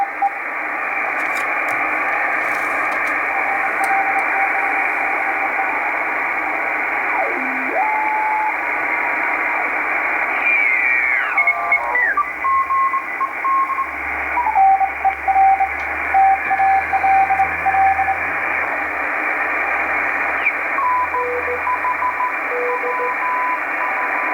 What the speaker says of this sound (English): these are Morse code amateur radio operators